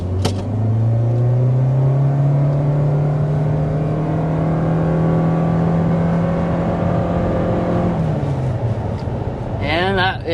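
A 2023 Toyota RAV4 Hybrid accelerates hard to 60 mph, heard from inside the cabin as a loud, steady engine drone that climbs in pitch for about eight seconds, then drops off as the car eases back.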